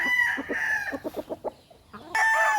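A Larry Romero Gray gamefowl rooster crows loudly and close, with clucking notes between two drawn-out calls.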